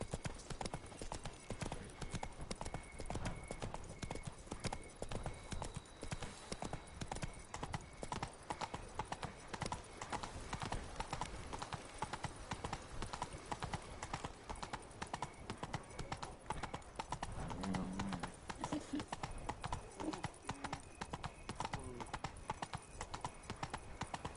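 A horse galloping in the video game The Witcher 3: Wild Hunt, Blood and Wine, with hooves clip-clopping in a rapid, steady rhythm for the whole stretch and a brief whinny partway through.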